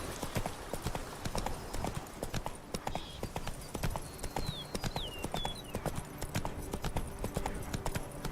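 Roach, a horse in a video game, clip-clops along in a fast, steady rhythm of hooves up close, with a few faint whistling tones over it.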